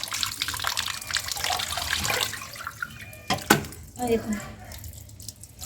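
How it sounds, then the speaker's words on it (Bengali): Tap water runs and splashes over raw chicken pieces being washed in a kitchen sink, a fairly quiet trickle with a few louder splashes, while someone speaks briefly. "জলটা আস্তে করে দিই"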